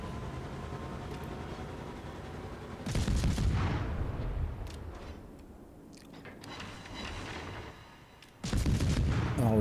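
Heavy naval gunfire in World of Warships from the destroyer Gremyashchy: booming salvos with rolling rumble, the loudest volleys at the start, in the middle and at the end over a constant engine drone.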